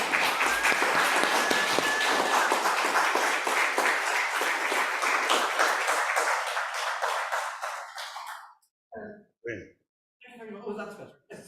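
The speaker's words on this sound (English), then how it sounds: "So could we have a big warm round of applause," A warm round of applause from a poetry reading audience for a poet, steady and full for several seconds, then fading out as the poet begins speaking.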